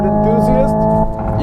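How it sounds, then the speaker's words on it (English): Synthesized combustion-engine note from the Hyundai N Active Sound Plus system in an 8-speed electric car, a steady harmonic drone with shifting pitch sweeps, loud and close, with a voice talking over it. "So you have the combustion engine, which you can hear there."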